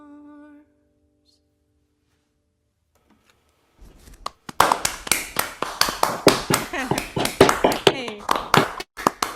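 Applause from a small folk festival audience breaks out after a brief tone and a pause, sparse hand claps building into steady clapping, with a single voice calling out once.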